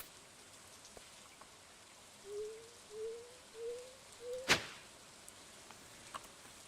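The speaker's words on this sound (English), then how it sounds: "oh, it's raining, so I'm not going to be able to tell" Rain patters in the farming video game Stardew Valley as a soft, steady hiss, while a short run of four rising tonal chirps and a single sharp click break through midway.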